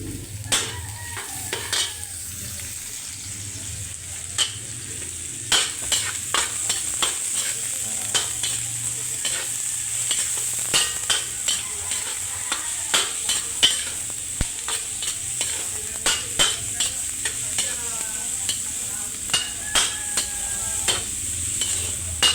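Garlic frying in a pan, a soft constant sizzle punctuated by sharp utensil clicks and scrapes against the pan, close up and without speech.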